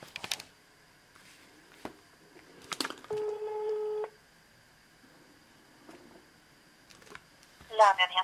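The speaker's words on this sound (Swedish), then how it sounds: "så ringer jag Linda Elmedi" A telephone dials out, a burst of touch-tone beeps followed by a steady ringback tone lasting about a second, then quieter clicks and a brief warbling signal; faint background noise, no talk over the tones.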